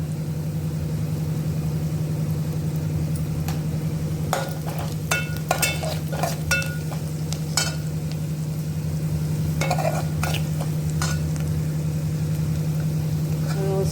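Onions cook in a hot tempering for kanda poha, a steady low sizzle with a constant hum beneath and scattered clinks and scrapes of stirring.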